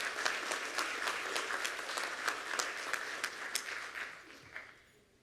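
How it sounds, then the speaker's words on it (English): Audience applause for school Teacher of the Year winners at an awards announcement, a steady dense round of clapping from a crowd that holds for about four seconds and then tapers off. "let's give our winners one more round of applause"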